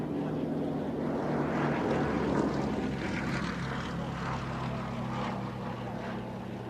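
A Lysander aircraft with a Bristol Mercury radial engine flying past at an air show, a continuous loud propeller drone rising and easing slightly, with faint crowd and announcer voices underneath.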